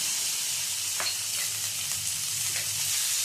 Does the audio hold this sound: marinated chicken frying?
yes